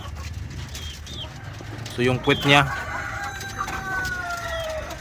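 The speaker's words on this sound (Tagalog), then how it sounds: "So yan yung isang manok natin mga ka-farmers." A sick or injured hen on a Philippine farm gives a short burst of clucking calls in the middle, set against steady outdoor background noise while someone talks.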